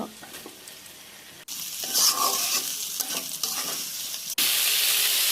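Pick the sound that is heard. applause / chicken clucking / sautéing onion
sautéing onion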